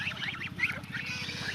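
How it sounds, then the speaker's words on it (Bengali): Ducks grazing on grass along a riverbank give a steady run of rapid, nasal quacking calls, fairly close and continuous with no talk. "নদীর পাড়ে হাঁস আপনার দেখেন কীরকম করে ঘাস খাচ্ছে"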